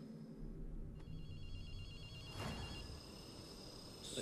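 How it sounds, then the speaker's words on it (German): A telephone rings in the video game Ghostwire: Tokyo, a steady electronic bell tone that runs through the clip over low ambient game sound, with a brief sharp burst partway through. "Ein Telefon. Soll ich abheben?"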